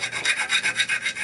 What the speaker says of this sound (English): I'm just going to file it away all around till all the burrs are gone